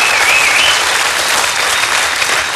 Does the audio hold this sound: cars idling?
no